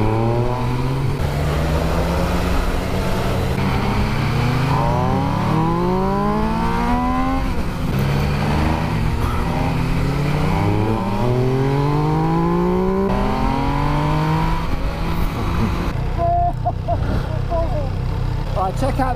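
A motorcycle accelerating hard for a wheelie on a road ride, its engine note climbing in repeated rising sweeps through the gears under constant loud wind rush.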